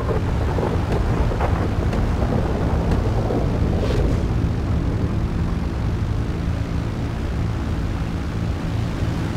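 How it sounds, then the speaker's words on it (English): A Titan transport airplane flies through a thunderstorm in GTA Online, a steady loud roar of engines and wind with faint crackles and a distant thunder rumble near the start, continuous for several seconds. "Land this Titan at the airport during a storm."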